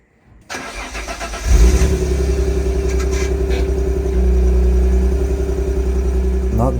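An Alfa Romeo 156 with a 2.5 V6 and its old exhaust cranks and fires up, then settles into a steady, loud, close idle with a deep rumble that holds for several seconds.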